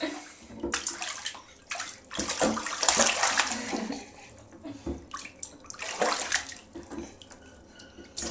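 Water splashing in a bathtub as a child slaps at it, in repeated bursts of sloshing and splatter with short pauses between, close and fairly loud with no talking.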